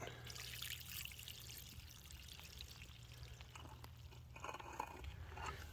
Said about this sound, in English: poured off the dirty, silty water